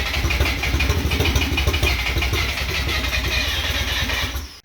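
The turbocharged rotary engine of a 1987 Mazda RX-7 FC is cranked in a failed start attempt, a loud, close, rapid rhythmic churning that runs steadily for several seconds before cutting off abruptly.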